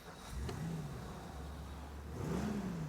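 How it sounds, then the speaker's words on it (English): A Ford Thunderbird V8 idles with a deep, steady rumble close by, swelling with a brief rev near the start and another toward the end. "This one sounds beautiful. Nice V8 rumble."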